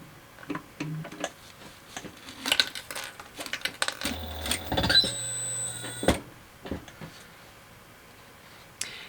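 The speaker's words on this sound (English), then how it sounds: "that's what it sounds like when you lock up an industrial machine. Or at least that's what it sounds like when I lock up my 8700H" An 8700H industrial sewing machine jams while basting fabric at a narrow seam, giving a cluster of clattering mechanical ticks and clicks, a brief strained motor hum, then a few scattered clicks as it stops.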